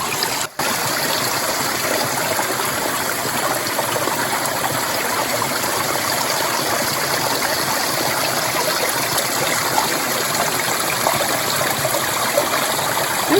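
Steady rushing and babbling of Siouxon Creek flowing over rocks at a hiking crossing, close and continuous throughout with no talking.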